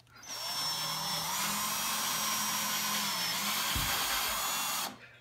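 A power screwdriver fitted to peel a potato whirs with a steady, high motor whine for about four seconds, starting and stopping abruptly, close and alone.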